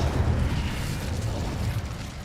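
Incendio fire spell cast in Hogwarts Legacy, a loud, dense roaring burst of flame with heavy low rumble that holds steady throughout.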